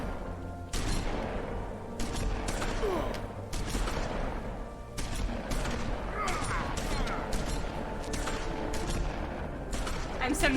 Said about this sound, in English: Those are shotguns.